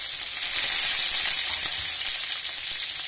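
Green chilies fry in hot oil in a pan after mustard seeds have popped, giving a loud, steady, close hiss of sizzling that runs unbroken with no talking.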